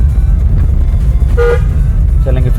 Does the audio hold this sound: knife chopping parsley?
no